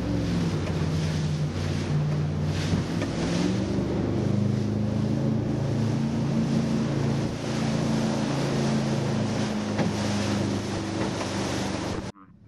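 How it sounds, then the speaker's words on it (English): Motorboat swinging around on Rush Creek, its engine a steady loud low drone under constant wind and water rush from near the microphone, running unbroken for about twelve seconds. "now I'm gonna swing the boat around."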